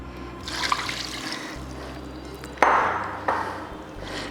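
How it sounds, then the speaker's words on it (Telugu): Coconut milk and about three cups of water are poured into a home-style mutton biryani pot, giving a soft liquid pour with a couple of sharper splashes partway through, moderately close, with no talking. "సో కొబ్బరి పాలు, ఇది ఒక 3 కప్పులు నీళ్ళు."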